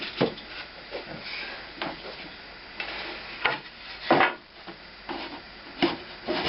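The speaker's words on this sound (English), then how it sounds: "It's my sander," A homemade drum sander works a board for a bass guitar build, giving a soft, scratchy rubbing with irregular louder swells as the wood is pushed through, fairly close and without talk.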